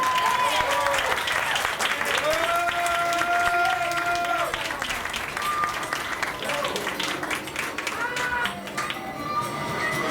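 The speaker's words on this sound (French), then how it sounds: "Applaudissez." Audience applause at a live radio show, continuous crowd clapping mixed with voices and some tonal sounds throughout.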